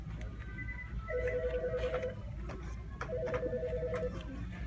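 A telephone rings twice in a bookstore, two bursts of electronic trilling about a second each separated by a pause, over a busy background hum of store noise.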